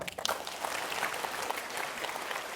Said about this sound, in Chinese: 来鼓掌。